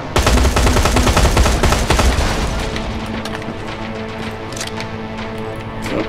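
Gunfire aimed at a Terminator in Terminator Resistance: dense, rapid automatic bursts, loud and close for about two seconds, then continuing as steadier, somewhat quieter shots.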